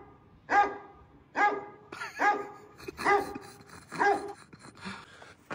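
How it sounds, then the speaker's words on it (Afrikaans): A recorded dog's barking plays through a speaker, about seven loud, sharp barks at a brisk, even pace with quiet gaps between them and no talking. "gaan ek maak asof hy 'n hond vir ons jag. Ek gaan dit speel deur die speaker."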